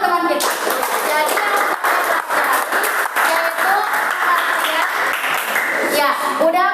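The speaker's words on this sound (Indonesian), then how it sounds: "Oke, tepuk tangan untuk teman kita." A classroom of children claps for a classmate in sustained, dense applause, with kids' voices chattering through it.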